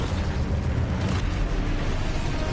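Confringo blasting spell from the Hogwarts Legacy video game, a loud, dense explosive roar with rumbling booms sustained throughout, continuous and close with no pauses.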